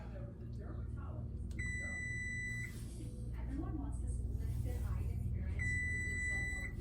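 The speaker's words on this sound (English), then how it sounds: "That's my rice alarm going off." A rice cooker alarm beeps in two sustained high-pitched bursts, several seconds apart, while a person talks underneath amid kitchen background noise.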